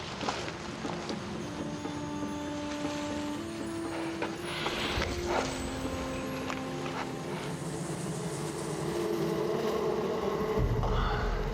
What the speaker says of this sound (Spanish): El sonido de la carretera resulta ser un panal de abejas